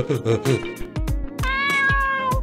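A cartoon cat in the game Dave the Diver meows several times in quick, high, chirpy calls, close and clear, with a longer drawn-out meow near the end.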